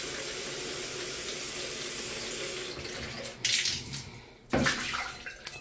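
Water from a tap runs steadily while rinsing a scrubbed tiled surface after cleaning with Simple Green and a pumice stone, a constant close hiss broken by a couple of louder splashing surges near the end.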